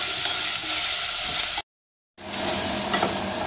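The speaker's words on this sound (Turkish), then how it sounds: "Onun için havucu çok kavuruyorum." Carrots sauté hard in a pan for orman kebabı, a loud close sizzle with stirring that breaks for a short silent gap and then resumes.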